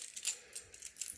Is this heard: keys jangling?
yes